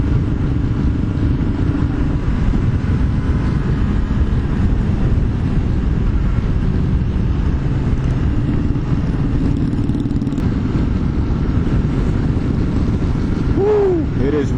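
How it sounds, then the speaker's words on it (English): Steady wind roar buffets the microphone on a Yamaha YZF-R3 sport bike during a group ride, a continuous low rumble mixed with engine drone throughout, with no talking. "It is windy."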